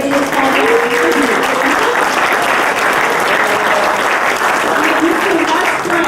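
Audience at a real estate association installation ceremony applauding steadily, a dense, sustained wash of clapping from a large room that holds at full volume throughout.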